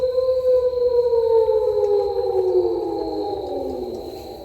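Metal flashing spins inside a red truck tire lying among berry bushes outdoors, giving off a loud, steady siren-like wail that slowly glides downward in pitch and fades slightly toward the end.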